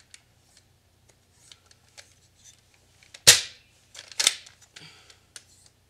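Toy dart gun firing at toy bugs stuck on a wall, giving two sharp, close snapping shots about a second apart among faint clicks and handling noises in a quiet room.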